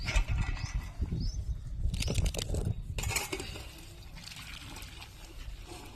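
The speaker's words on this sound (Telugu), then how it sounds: "ఇప్పుడు వీటిల్ని నీళ్ళని వంపేసుకుందాం" Water from boiled sweet potatoes poured off into a perforated dish, with a splashing rush and clatter of the pot and dish at first, then a softer trickle as the flow thins, close up and without speech.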